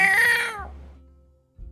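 A cat lets out one loud, close, drawn-out yowl that bends downward and cuts off, followed by a low hum and a brief thump near the end.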